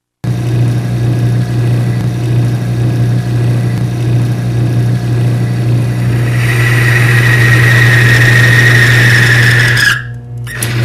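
A Timken-style bearing lubricity test machine running with regular motor oil, a loud steady motor hum with a rising whine that builds before the machine abruptly drops off near the end.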